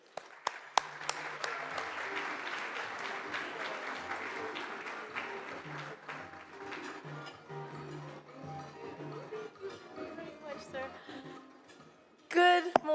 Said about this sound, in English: Let's give her a round of applause and welcome her to the